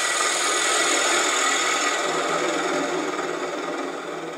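A lathe tool cuts steadily into a spinning holly wood box, producing a continuous, loud, broadband hissing whir that holds even throughout and fades slightly toward the end, with no talking.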